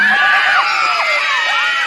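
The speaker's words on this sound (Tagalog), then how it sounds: "Pwede po bang makahingi ng masigabong palakpakan at hiyawan dyan?" Festival crowd at a costume pageant cheering loudly, with high overlapping shouts, whoops and screams sweeping up and down over a dense wall of noise, close and sustained with no clear clapping.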